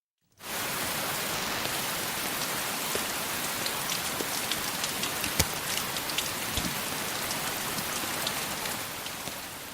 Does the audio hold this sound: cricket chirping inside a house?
no